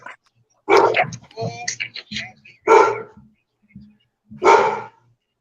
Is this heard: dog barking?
yes